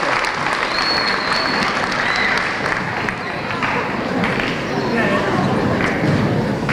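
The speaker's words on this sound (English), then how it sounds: "give yourselves a big hand clap" Students, parents and teachers at a middle school bridging ceremony applaud, a dense, steady wash of clapping throughout with some voices mixed in.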